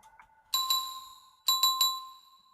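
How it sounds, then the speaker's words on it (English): A bright bell with added reverb rings in two groups of strikes, each tone ringing out with a lingering reverberant tail over near silence. "here the bell, it has some reverb"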